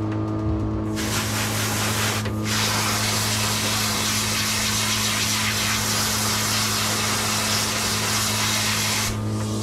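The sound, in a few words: water rinse spraying a Pomeranian in a grooming tub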